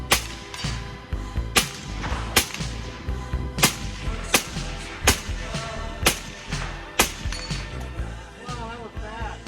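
An AK rifle fired during competition practice at a range: roughly ten sharp, loud reports at a fairly steady pace of about one shot every second, each followed by a short ringing decay.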